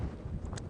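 Low, steady rumble of wind buffeting a microphone on open safari plains, with a few brief hissy bursts near the end.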